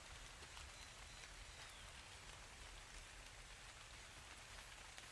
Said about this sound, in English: Oh, good, rain.